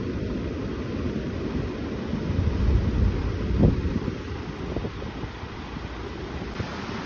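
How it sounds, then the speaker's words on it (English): Steady coastal wind on the Great Ocean Road near Lorne buffets a microphone outdoors, a low rumbling roar that swells briefly in the middle, with no voices. "Wind's picking up."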